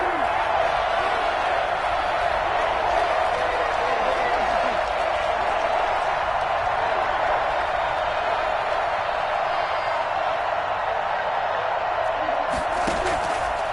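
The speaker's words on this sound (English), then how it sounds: "this crowd's going to get even louder" A dense, constant roar of a large American football stadium crowd cheering throughout, loud and unbroken, with no single voice standing out.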